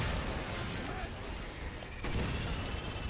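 Grenade blasts in Resident Evil 6 gameplay, a dense burst of booming explosions and rumble with a sharper crack near the middle, loud and close, over a game soundtrack bed.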